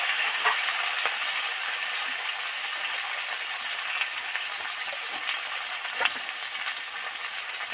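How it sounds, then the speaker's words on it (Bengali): Okra frying in hot oil while being stirred, a continuous loud hiss and crackle close by, with occasional faint taps from the stirring utensil. "এবার এর মধ্যে ঢেঁড়সটা দিয়ে দিচ্ছি ঢেঁড়সটা তেলের মধ্যে ভালো করে নেড়ে ফেলে দিচ্ছি"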